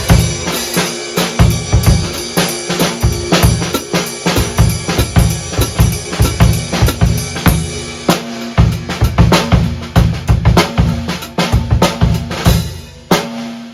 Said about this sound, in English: you're pulling the beater off the head.